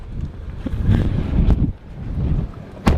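Strong wind in Death Valley, USA, buffets the microphone in heavy, uneven gusts, a low roaring rumble that swells and dips throughout.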